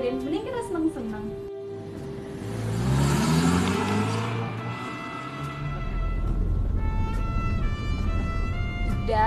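Car engine running steadily while driving, a low continuous rumble with a rise in revs midway, heard under music with melodic tones and talk.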